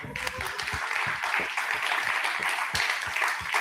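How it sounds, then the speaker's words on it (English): Steady applause from a crowd, dense clapping continuing throughout at a lively, even level. "needs a round of applause right now"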